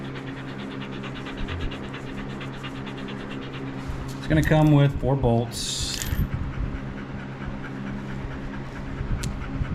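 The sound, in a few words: dog panting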